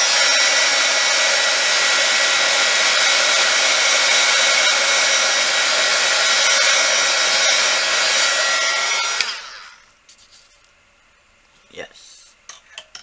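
A heat tool blows a loud, steady, hair-dryer-like roar over a polymer clay pendant for about nine seconds, then cuts off, leaving quiet clicks and small handling taps.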